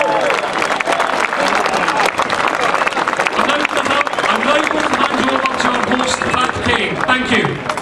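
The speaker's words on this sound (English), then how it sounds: "So please give yourselves a huge round of applause." Loud, continuous applause from a large crowd at an independence march and rally, a dense roar of clapping mixed with cheering voices that stays level for several seconds.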